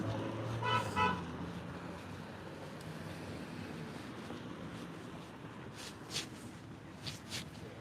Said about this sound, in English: So if you hear honking, that's what that is.